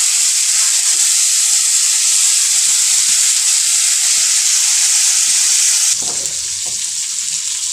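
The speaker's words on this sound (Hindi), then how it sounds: "दस मिनट तक और इसको पकाएंगे अभी हम।" Tikka-style chicken wings fry in a pan with a loud, continuous hissing sizzle close by, the sound thinning slightly toward the end with a few soft clinks.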